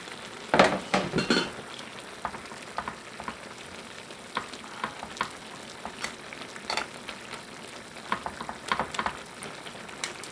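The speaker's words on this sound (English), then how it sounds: "Now we're gonna go ahead and reduce our heat so that it's not boiling." Chicken marsala sauce bubbling and sizzling in a pan, a soft continuous crackle broken by a few louder scrapes and clinks of a utensil against the pan near the start.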